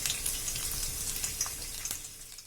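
Chopped garlic and a little ginger sizzle in coconut oil, a steady crackling fry with brief scraping stir sounds, close and continuous without speech.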